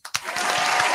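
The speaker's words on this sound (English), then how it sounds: "Clap it up for Tommy." A comedy show audience breaking into applause: a sudden swell of crowd clapping that quickly builds to a steady, loud wash within a second.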